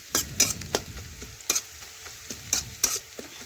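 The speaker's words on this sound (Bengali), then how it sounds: "এই দেখুন নাড়াচাড়া করে লাল লাল করে একটু ভেজে নেব।" Finely chopped onions fry in a pan under an even sizzle, broken by a series of sharp scraping strokes as a utensil stirs them at irregular intervals.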